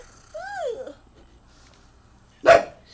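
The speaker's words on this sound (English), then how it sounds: "What are you barking at?" A dog in The Sims 3 life-simulation game gives a short, loud bark-like yelp near the end, after a quieter whining vocal at the start, with no talking.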